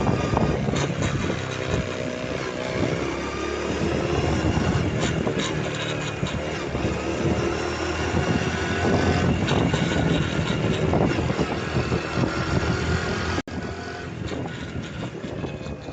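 A motorcycle engine with a loose cam chain from a worn tensioner runs loud and close while decelerating, a dense rattling, chattering mechanical noise throughout with no talk.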